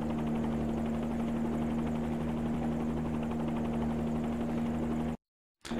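A helicopter setting down in the X-Plane flight simulator, its rotor and engine droning loud and steady with a constant hum before the sound cuts out abruptly near the end.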